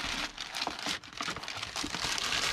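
Filler paper crumples and crinkles continuously at close range while an order is packed into a box, with steady rustling bursts and no talking.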